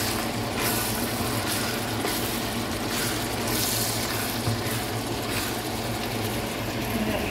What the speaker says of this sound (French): On va laisser mijoter au début à grand feu.